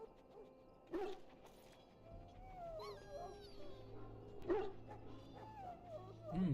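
A dog penned up in the Dragon Age Origins video game gives a few short, whimpering yips and low vocal sounds over a quiet ambient game soundtrack, with brief louder bursts near the start and middle.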